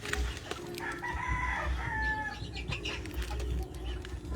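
Chickens and a rooster in a backyard coop with chicks, a rooster crowing once near the middle amid soft clucking, a person speaking quietly nearby.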